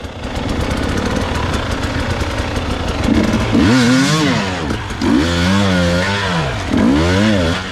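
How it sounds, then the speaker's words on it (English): A Suzuki DRZ dual-sport motorcycle engine runs loudly and close at a steady drone, then revs up and down in three rising and falling swells. "There's that DRZ dual sport."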